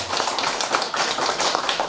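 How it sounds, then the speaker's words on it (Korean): An audience at a presentation on a mobile electronic stock system claps in a dense, even patter, moderately loud and continuous with no voices over it. "박수 한 주세요"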